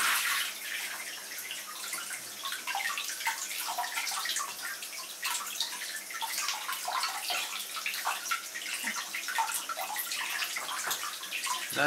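A household shower runs steadily with a dense, hissing spray of water splashing into a tub, continuous and fairly close for the whole stretch, with small irregular splatters and no talking.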